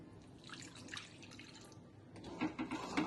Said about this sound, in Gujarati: હવે આપણે અંદર પાણી એડ કરીશું